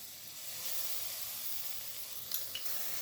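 Prawn curry paste sizzles softly in a pan, a faint steady hiss broken by a couple of quick light scrapes of stirring near the end.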